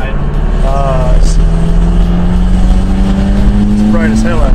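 A Toyota Tacoma engine with a modified exhaust, catalytic converters removed and a small muffler, climbs steadily in pitch as it revs, a loud, continuous drone with people talking over it.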